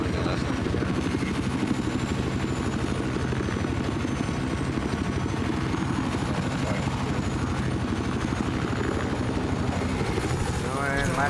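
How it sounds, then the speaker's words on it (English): A helicopter in Battlefield 4 chops steadily, a dense continuous rotor whir with a low engine drone filling the whole stretch, loud and close. "we finally got a helicopter."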